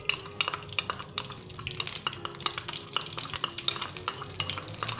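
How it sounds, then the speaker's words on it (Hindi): Vegetable ghee heating in a frying pan for raisin zarda, with soft sizzling and frequent close metallic taps and scrapes of a spoon stirring against the pan in an irregular rhythm. "सबसे पहले हम इसके अंदर वेजिटेबल घी शामिल करेंगे।"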